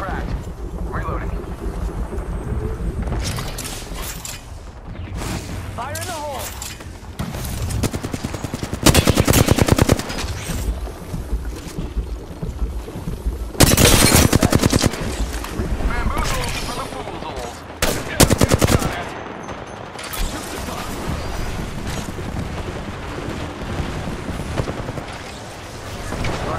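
Heavy automatic gunfire in Apex Legends, with several long loud bursts and scattered shots alongside reloads and other battle noise, and a player talking over parts of it.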